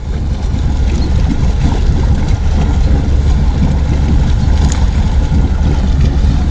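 An outboard-powered boat, likely a Johnson 235, motors steadily across open water while towing another boat back toward a launch, a loud, continuous engine drone mixed with wind and water rush throughout, with no talking.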